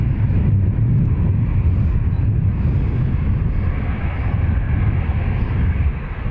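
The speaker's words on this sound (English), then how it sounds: "Ryanair from Lisbon on approach next." A Ryanair airliner inbound from Lisbon on approach to Dublin Airport, its steady low engine rumble and broadband roar filling the air at an even, continuous level without any voices.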